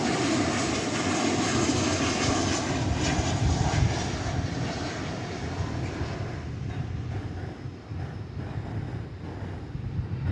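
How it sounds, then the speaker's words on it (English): An American Airlines Boeing 737-800 from San Antonio roars past, its loud jet engine noise strongest early and easing gradually, with some wind buffeting the microphone. "That was American Flight 2266 from San Antonio, Texas, 737-800."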